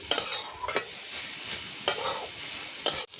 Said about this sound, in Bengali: পেঁপেটাকে ঘিয়ের সাথে নেড়ে নিচ্ছি